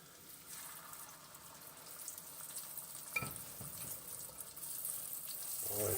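Breaded steak frying in grease makes a faint steady hiss, a sharp clack partway through, and a louder sizzle swelling toward the end.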